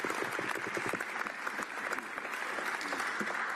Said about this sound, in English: Mr. Speaker, I'll accept the applause today.